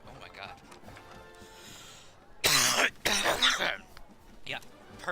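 A person coughs in a few harsh, loud bursts, with a throat-clearing quality, after a quieter stretch of background sound.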